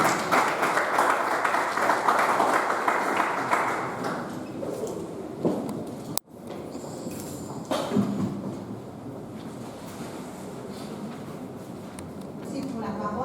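An audience applauds at an official event in a broad crowd clapping that fades out over the first half, followed by a bump, shuffling movement and a voice speaking.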